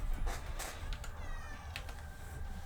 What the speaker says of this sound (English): My cat's right here.